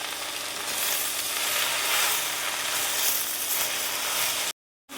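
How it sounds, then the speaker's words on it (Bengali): Greens frying in a wok give a loud, dense, continuous sizzle close by. It holds steady for several seconds, then cuts to silence just before the end, with no talk. "আমি এই শাকগুলো একটু ভেজে নিব।"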